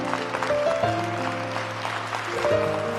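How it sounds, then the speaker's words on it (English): Standing applause for an Illinois Chief Justice at a Law Day event, soft steady clapping running beneath sustained music tones that shift pitch. "please stand and give him a round of applause"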